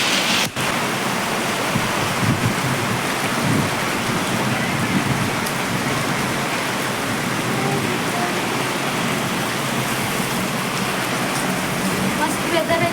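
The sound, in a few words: rain falling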